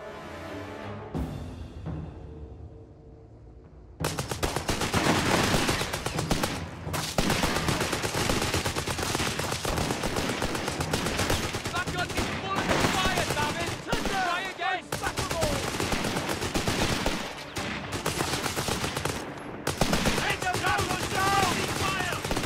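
Gunfire in Company of Heroes 3, North Africa 1942: after a quieter opening with voices, heavy rapid machine-gun and rifle fire erupts and continues densely, with short pauses and some shouted talk underneath.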